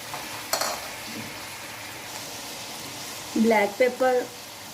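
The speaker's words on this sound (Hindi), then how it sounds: "अब वो उबले मटर मैं इसमें शामिल कर रही हूँ।" Boiled peas stirred into capsicum frying in a pan, giving a steady low sizzle with a few scraping stirs, then a short burst of voice near the end.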